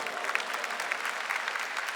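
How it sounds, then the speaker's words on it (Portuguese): A church congregation applauds during a Catholic service, a steady dense clapping from many hands throughout. "Quer aplaudir? Aplauda, pode aplaudir."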